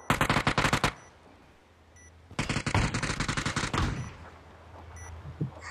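Bursts of rapid gunfire in PUBG's Counter-Strike mode, two loud volleys of rapid shots separated by a pause, followed by fainter scattered shots and game noise, with no talk.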